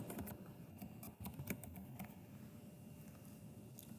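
Password being typed on a computer keyboard, a quick run of soft, close key clicks in an irregular rhythm, faint and alone in a quiet room.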